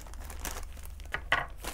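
Plastic packaging from an AliExpress craft-supply order crinkles and rustles close up as it is torn open, a busy, continuous crackle lasting under two seconds.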